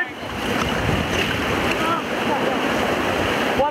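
Big river rapids on a Tennessee rafting run, heavy whitewater rushing at around 3,000 CFS as a steady loud broadband roar close by, with wind buffeting the microphone.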